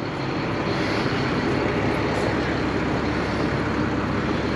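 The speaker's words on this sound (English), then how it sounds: "Got the motor running," A Caterpillar 350 diesel engine idling in a 2006 Alfa See Ya Class A motorhome, heard from the rear as a loud, steady low rumble with a constant droning texture and no voices.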